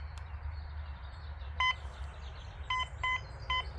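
A Quest X10 Pro metal detector held over a dug hole gives four short, clear electronic beeps, spaced unevenly, over a steady low outdoor background rumble.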